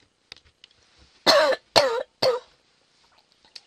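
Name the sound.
throat clearing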